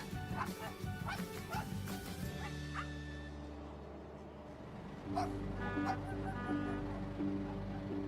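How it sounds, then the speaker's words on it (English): A territorial dog aboard a river barge in Thailand barks in short, sharp bursts with yips and whimpers, fairly close but quiet overall, with brief gaps between volleys and engine rumble beneath. "First thing I saw when I get on the barge is a dog."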